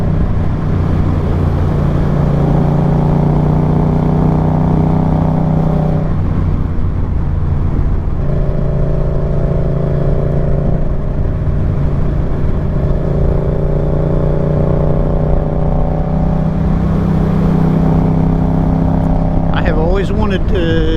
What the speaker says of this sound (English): Always wanted to ride my motorcycle up this hill, and now I am.